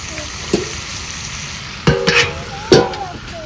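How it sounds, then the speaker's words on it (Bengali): Chicken sautéing in a covered pan with mango, a low steady sizzle broken by several sharp scraping and clattering stirs of a spatula against the metal, the loudest knocks near the end; no talk. "মাংসটা কষতে হবে, তাই আর একটু ঢাকা দেব।"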